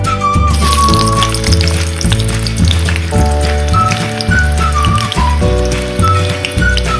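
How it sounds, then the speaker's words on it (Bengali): Pieces of green banana (plantain) sizzle while frying in oil for a Bengali shukto, a steady, crackling hiss under background music. "কাঁচকলাটাকেও লাল লাল করে ভেজে নিচ্ছি।"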